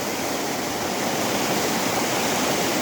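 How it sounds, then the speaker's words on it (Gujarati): A river's fast-moving water rushes in a dense, continuous roar, loud and close, with no pauses. "આ તરફ ઘોઘવતા પાણીનો અવાજ"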